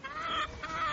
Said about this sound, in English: These are free-ranging chickens.